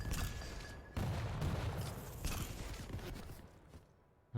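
Rapid machine-gun fire in the arena shooter Quake, dense crackling bursts that run almost continuously for several seconds, loud and close, with no voices over it.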